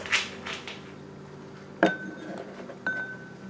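Old eggs that floated in water are cracked against a bowl: two sharp, close clinks about a second apart, each leaving a short ringing tone, with a soft rustle beforehand.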